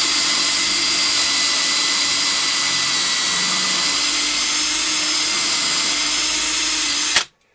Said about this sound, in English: I insert my drill bit and now I start.